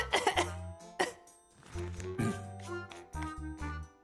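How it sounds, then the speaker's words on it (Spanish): A cartoon bear character coughs in several harsh, close bursts with throat-clearing between them in a Spanish-dubbed animated show. "Tose, por favor."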